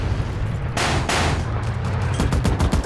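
Gunfire from an MPX in the shooter game World War 3, a few sharp broadband bursts over a steady low rumble, fairly loud and close with no talk.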